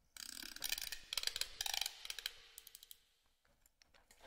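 Sampled music box winding clicks from a virtual instrument library, a quick run of dry ratcheting ticks that thins into sparse, fainter clicks toward the end.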